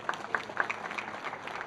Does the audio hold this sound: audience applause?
yes